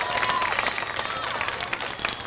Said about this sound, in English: Ladies and gentlemen, another nice round of applause for Joe Bowser and win number 2.